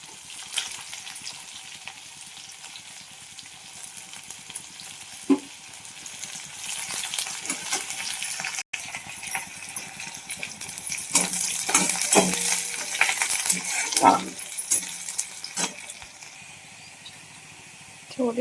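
Cumin, mustard seeds, onion and curry leaves sizzle in hot oil in a pan for a home-cooked vegetable dish. There is a steady frying hiss with stirring scrapes and a few sharp crackles and clinks, close by.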